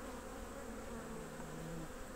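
Honeybees buzz steadily at an open hive during an October inspection of a colony with brood, a dense continuous drone of many insects close by with no talk.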